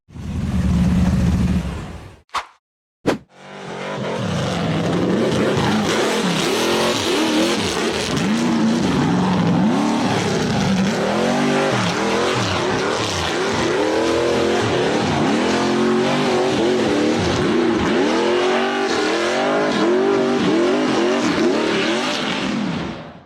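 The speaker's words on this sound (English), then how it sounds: "The buggy powered through a series of challenging sandy dirt slopes, then accelerated straight up a steep rock face" An off-road buggy engine roars loudly and continuously as it accelerates up a steep rocky dirt slope, with rising and falling revs and rough mechanical strain after a brief pause near the start.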